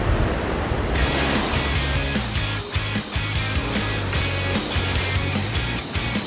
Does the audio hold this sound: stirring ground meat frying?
no